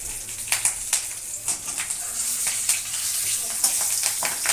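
Bay leaves and slit green chillies crackle in hot tempering oil: a close, continuous sizzle broken by quick sharp pops and stirring clinks, with no voices.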